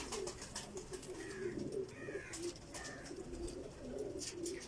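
Teddy pigeons cooing softly in a loft, several repeated low rolling coos with faint wing and background noise, moderately distant and quiet, no voices.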